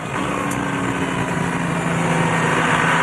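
A steady engine drone with a high whine above it, continuous and fairly loud, from an Audi twin-turbo 5.5-liter diesel race car passing close by at Le Mans in 2006.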